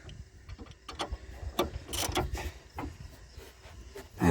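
Bolts being tightened on a CV axle of a 1991 Dodge Stealth, a run of quick metallic ratchet clicks and tool rattles, close and uneven in rhythm, with no talking.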